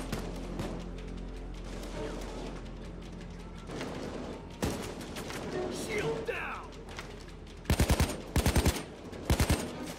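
Video game shootout gunfire, with scattered distant shots and mechanical clatter over a steady low rumble, then two loud close bursts of rapid automatic fire near the end.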